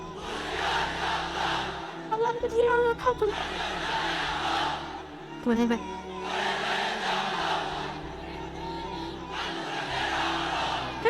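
A large crowd in a tented religious gathering roars the takbir chant in repeated, sustained waves of massed voices, with brief gaps between each loud call and response.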